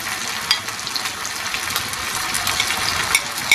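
Small-cut tomatoes and chillies fry in a hot pan, giving a continuous close sizzle and crackle with occasional stirring scrapes, steady and fairly loud with no voices.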